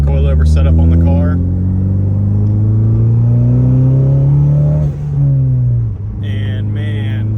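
A Ford Focus ST being driven, its engine droning loud and close with a steady rising tone as it accelerates, briefly dipping before settling, with someone talking over the start and end.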